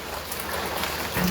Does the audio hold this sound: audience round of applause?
no